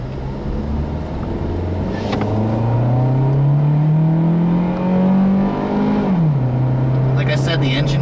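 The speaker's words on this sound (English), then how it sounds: "the engine does get a little bit buzzy when you're trying to accelerate" A 2007 Toyota Corolla S with its 1.8-liter engine accelerates from inside the cabin, a steady buzzy drone rising in pitch over several seconds before easing off, loud and continuous under light road noise.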